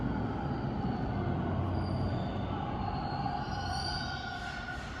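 Toronto Bloor-Danforth subway train rumbling steadily below street level, a continuous low roar with faint high squeals, heard from the street above and fading slightly toward the end.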